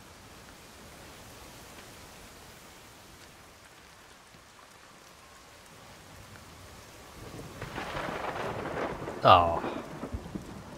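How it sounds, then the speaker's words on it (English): Quiet rain hiss in the video game Everybody's Gone to the Rapture swells into a louder rumble of thunder near the end, with a short exclamation from a voice over the storm. "Now thunder and lightning"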